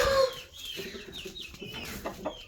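Roosters cluck and mutter in short, clipped bursts, with a few sharper calls scattered through a busy farmyard, fairly close and uneven in rhythm.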